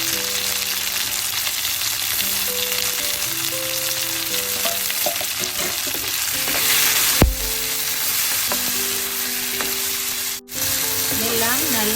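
Tomato and curry chillies sauté in a pan for a brinjal and chickpea curry, a loud continuous sizzle and crackle with a brief clatter from the pan partway through, close-up with no voices.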